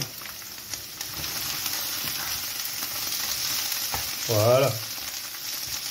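Mushrooms sizzle and fry in olive oil in a pan, a steady soft hiss throughout, with a single word spoken briefly near the end.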